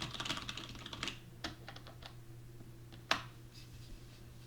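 Keys clatter on a computer keyboard as text is typed into Notepad++, a quick burst of close, light clicks, then sparser taps and one sharper keystroke, quiet against a low room hum.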